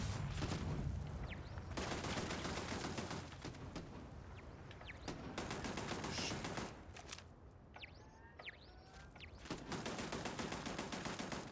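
Turrets in the space game Starfield loose bursts of rapid automatic fire, loud clattering volleys separated by brief lulls filled with faint high whooshes and ricochet-like pings.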